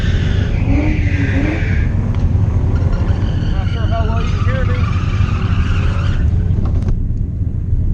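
A turbocharged Fox-body car's engine roars and revs on the LMR race track with tire squeals, while a person talks over the loud driving noise.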